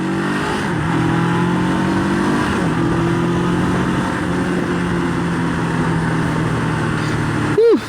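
A Honda CB400X motorcycle accelerates hard, its engine note climbing through gear changes in a loud, close drone with wind rush, then dipping sharply at the end.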